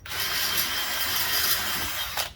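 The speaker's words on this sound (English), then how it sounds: "Drill your hole." A power drill bores a hole for a transmission cooler install with a steady, gritty whirring and grinding, close and fairly loud, ending with a brief burst.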